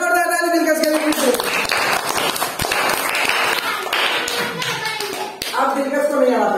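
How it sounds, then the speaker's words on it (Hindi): A group of children claps together to celebrate during a number-tile learning game, a quick, steady patter of hands heard alongside an adult voice talking and calling out. "जोरदार ताली मिलकर सेलिब्रेशन"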